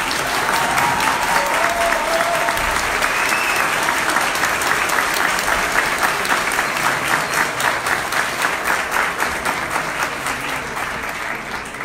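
An audience gives a long, loud round of applause welcoming the president of the Cotopaxi indigenous movement at an Ecuadorian event, dense clapping that turns more rhythmic and unified toward the end.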